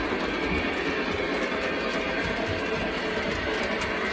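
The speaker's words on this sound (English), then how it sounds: "So the train's going to come around the back there." A Lionel model train runs around a layout track, a continuous close rolling rumble with fine clickety-clack from the wheels and no talking.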